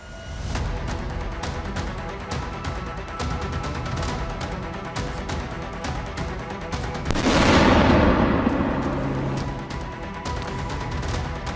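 Explosions from a Russian attack on a command post in Kharkiv come as a dense run of sharp cracks and thuds, with one louder, longer blast rolling through partway.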